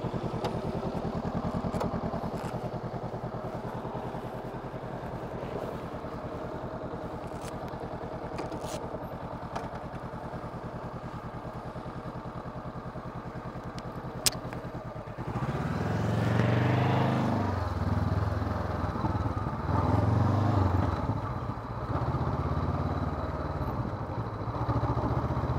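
A motorcycle idles with a steady low rumble before its engine revs up and pulls away, the roar rising and easing in surges as it is ridden.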